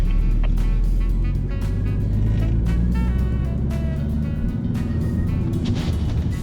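Car braking hard on a slippery white skid-pad surface at the Slovakia Ring driving school, a steady close engine and tyre roar with rising and falling tones and squeal streaks.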